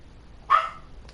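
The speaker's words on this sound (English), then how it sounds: "You always tell your dog to shut up. Because she's always barking for no reason." A dog gives a single sharp, fairly loud bark close by, followed by a faint short yip, against a quiet background.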